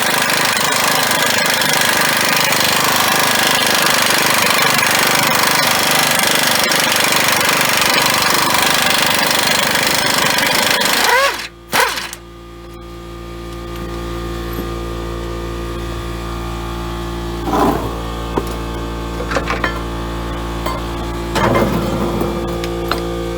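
An impact wrench or air tool loosening a 21 mm bolt on a Dodge Dakota/Durango front sway bar, a loud continuous rattling whir for about eleven seconds that stops abruptly, followed by lighter clinks of metal.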